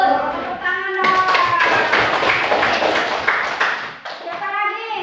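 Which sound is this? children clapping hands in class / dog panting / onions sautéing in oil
children clapping hands in class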